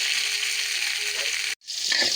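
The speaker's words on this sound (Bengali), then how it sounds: "আজকে মাছ ভাজছি" Nola fish frying in a pan, a steady close sizzle that breaks off in a brief gap and then resumes with some stirring noise.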